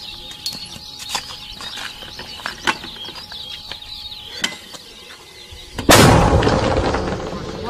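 Mortar fire near the Lugansk airport: a few sharp distant thumps and clicks give way to one loud, close blast, whose roar decays over the last seconds.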